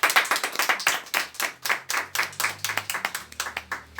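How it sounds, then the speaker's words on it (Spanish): A church congregation gives the Lord a loud round of applause during an evening Spanish-language service. Sharp, rhythmic clapping comes close and steady, with a low hum underneath. "Le damos un fuerte aplauso al Señor."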